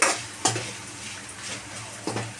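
Onions with turmeric are stirred in a frying pan: a low sizzle runs throughout, with two distinct scraping stirs of the spatula about a second and a half apart, and nobody speaks.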